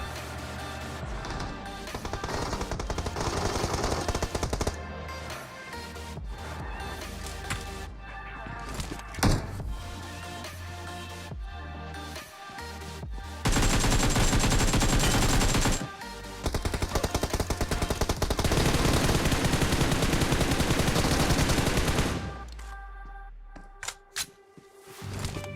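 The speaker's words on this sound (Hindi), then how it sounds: "मुझे इवेंट के सामने से गोलियां चलने की आवाज आती है।" Gunfire in the mobile battle-royale game PUBG Mobile crackles in bursts and rapid volleys, with loud stretches of continuous shooting, pauses between them, and game background sound underneath.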